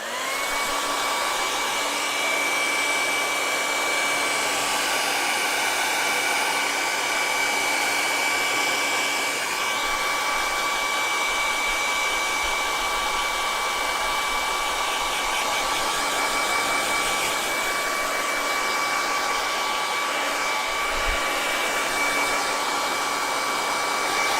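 A hair dryer blows steadily and loudly on freshly painted acrylic paint, a continuous close whine with a high pitched tone that holds for the whole stretch with no talking.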